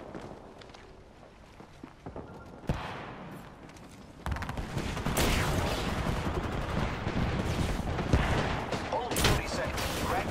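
Enemy gunfire in the video game Apex Legends: quiet scattered shots and footsteps at first, then a sudden dense barrage of rapid gunfire, loud and sustained, with occasional sharp louder cracks.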